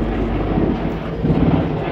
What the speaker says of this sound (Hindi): बाहर हेलीकॉप्टर घूम रहे हैं मिलिट्री वालों के।